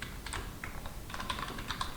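Keys clatter in quick, irregular bursts on a computer keyboard as a command is typed at a terminal on an on-premises server, close and clear with no voices.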